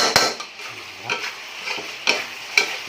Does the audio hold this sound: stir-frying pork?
yes